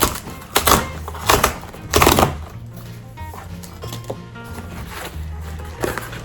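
A just-delivered parcel of a book is opened by hand, giving several close rustling and tearing bursts of paper or packaging with quieter handling noises between them.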